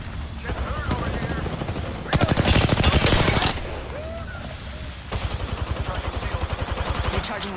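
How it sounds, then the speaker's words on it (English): Rapid automatic gunfire bursts in Apex Legends, loud sustained rattling volleys broken by short pauses, with game effects and a voice talking over parts of it. "They spotted me. Taking shots."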